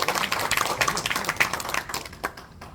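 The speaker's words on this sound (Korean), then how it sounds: "큰 박수 부탁드리겠습니다." Brief scattered clapping from an audience at a forum on ageing and senior life, fairly quiet and uneven, thinning out after a couple of seconds.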